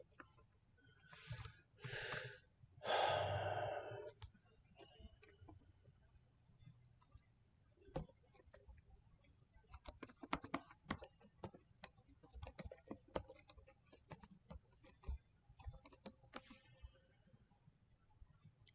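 Clicky typing on a computer keyboard, irregular bursts of keystrokes close to the microphone, with a few louder thumps and brief voice-like sounds early on.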